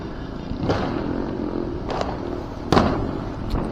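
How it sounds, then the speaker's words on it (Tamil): Diwali firecrackers burst one after another, with four sharp bangs spaced a second or so apart, heard at moderate distance over a constant low engine-like rumble. "இந்த பக்கம் வெடிக்குது, இந்த பக்கம் வெடிக்குது"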